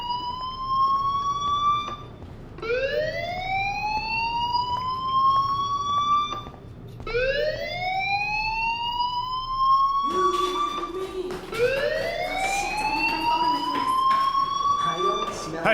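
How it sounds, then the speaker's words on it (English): Fire alarm in the video game Life is Strange, a loud rising electronic wail that sweeps up repeatedly in long cycles, with a brief gap between sweeps and louder overlapping tones near the end. "Hey, do you hear that fire alarm?"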